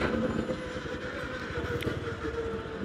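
A metro train rumbles along the elevated rail line overhead at Paltan, a steady, close rolling clatter with faint wheel squeal lasting the whole stretch, with no voices.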